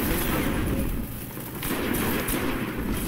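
Dense, continuous gunfire in the sci-fi shooter Destiny, with loud overlapping shots and booming impacts filling the whole stretch and no break in the noise.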